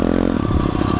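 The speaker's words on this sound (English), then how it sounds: "The clutch is slipping." An SSR 140 motorcycle with a slipping clutch gives a brief, loud, close engine drone with a rough, clattering edge and no talking.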